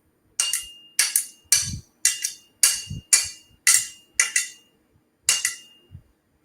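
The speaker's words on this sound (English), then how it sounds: "you take the rod and tilt it a little bit like that, and then you strike the end of the hammer" A hammer strikes the end of a tilted metal rod nine times in a fairly even rhythm. Each blow gives a sharp, bright metallic clink with a ringing tone that fades, followed by a short pause before the next.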